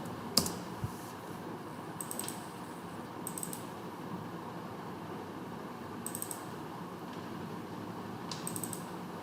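Computer keyboard typed on to enter a terminal command, a few quiet clusters of key clicks spaced a couple of seconds apart over a low steady room hiss, no talk.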